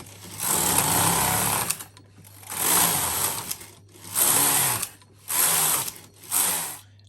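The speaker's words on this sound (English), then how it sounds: "we can just continue knitting" A Japanese double-bed knitting machine clatters through rib rows with loud mechanical rattling passes. Five carriage sweeps, each about a second long, are separated by brief pauses, over a low steady hum and with no talking.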